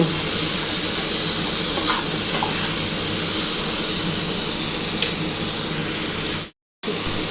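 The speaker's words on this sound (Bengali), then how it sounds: "আমার কিন্তু আলু আর কুমড়োটা মোটামুটি ভাজা হয়ে এসছে" Potato and pumpkin pieces fry in oil in a wok with a loud, continuous sizzle that stays even until a brief cut near the end.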